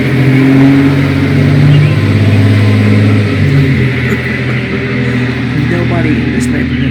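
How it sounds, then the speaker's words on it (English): A loud car drives past on a residential neighborhood street, its engine droning and revving steadily for several seconds, close and dominant, with no voices on top. "Nobody in this neighborhood has a quiet car."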